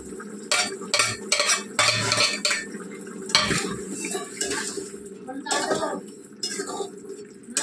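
Prawns go into a bubbling curry and are stirred in a pot, with repeated metal clanks and scrapes of a spoon against the pot. A voice speaks at times over the steady clatter.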